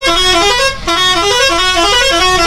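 A bus pulling away from Canning station blasts a loud, multi-tone horn almost nonstop, broken by one short gap, very close and dominant over faint engine rumble.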